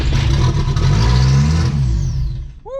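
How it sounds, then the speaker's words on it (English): A VW Golf 3 with a 1.8T engine swap fires up and revs loudly up close, a rough rising roar that fades out toward the end. "Okay, a little bit of rev there."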